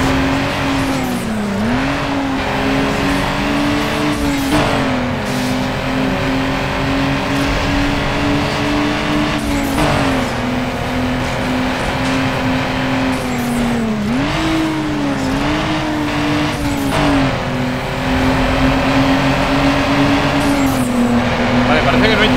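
A Nissan Skyline GT-R R34 races in Need for Speed Underground 2, its engine droning loudly and steadily with rises and dips in pitch at gear shifts, while a person talks over the game sound.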